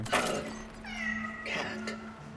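A cat meows in the video game Cronos: The New Dawn, two or three drawn-out, wavering meows close by over a low steady game drone.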